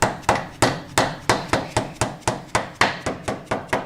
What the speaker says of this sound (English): I will use like a dead blow hammer like this or a rubber mallet